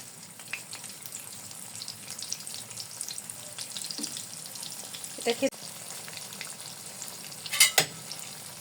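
Egg-coated pointed gourd slices frying in hot oil, a faint, soft crackle with a few spatula scrapes and clinks near the end, no speech.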